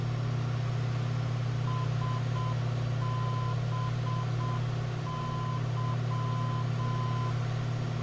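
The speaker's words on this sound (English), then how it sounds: "we'll hear these dots and dashes" A steady tone beeps out dots and dashes in repeating Morse groups, a VOR navigation station identifier heard over an aircraft audio panel, over a constant low engine drone and static hiss.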